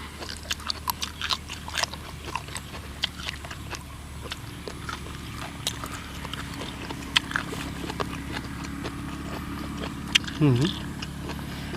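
Close, crunchy chewing and biting of pounded cuttlefish tentacles eaten with rice noodles, irregular crisp crunches running throughout under a person talking.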